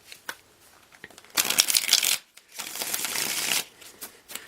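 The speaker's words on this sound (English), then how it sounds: "One more shuffle." Tarot cards are shuffled close by in two crisp riffling bursts, each about a second long, with a few soft taps and card handling sounds around them.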